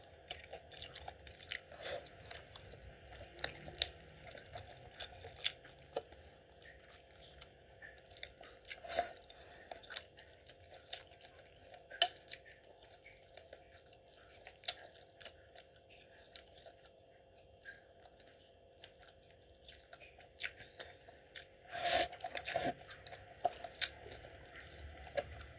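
Someone eating instant noodles, with soft close-up chewing, slurping and biting sounds coming in irregular bursts, including a louder cluster near the end, over a quiet room hum.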